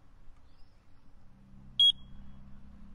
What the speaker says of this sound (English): By pressing the test button and then making sure that you hear the audible tone that it gives off